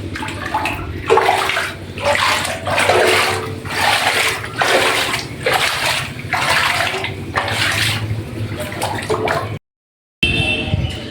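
Water rushing steadily through a drum used as a culvert under a village crossing, a loud continuous gushing that surges in waves, then briefly cuts out and returns.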